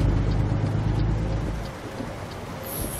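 Rain falls in American Truck Simulator as a steady hiss over a deep low truck rumble, which fades partway through and leaves the rain alone.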